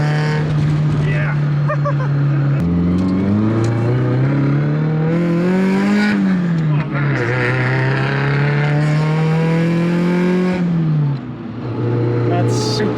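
A car fitted with a Tomei titanium exhaust revs and drives at a car event, its loud, raspy engine drone rising and falling through gear changes, heard close with people talking over it.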